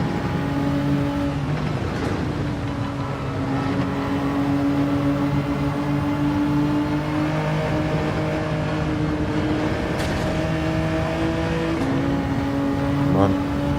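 Honda NSX race car engine in Gran Turismo 7 on the Nürburgring, a loud, steady high-revving drone with shifting pitch as it accelerates and changes gear, heard continuously up close.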